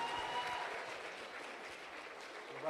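An audience at a university Black History program claps, a dense, even patter of many hands at moderate distance that holds steady for a few seconds.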